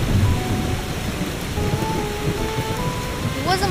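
A typhoon brings heavy rain and rolling thunder, forming a dense, steady roar from close by. Faint background tones sit under it, and a brief chirping sound comes near the end, with no talking.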